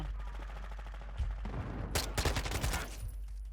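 Bursts of rapid gunfire crackle in Call of Duty: Modern Warfare II, starting around the midpoint as a dense, loud volley over a steady low background hum, then trailing off.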